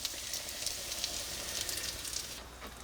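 Bacon softens in a hot pan with a steady, close, crackling sizzle and scattered pops, with no talking.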